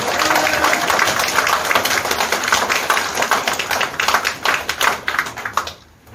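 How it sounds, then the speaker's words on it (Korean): Applause for a newly appointed provincial party committee chairman at an inauguration ceremony, a loud crowd clapping in dense rhythm that thins into separate claps before cutting off near the end. "큰 박수 한번 부탁드리겠습니다"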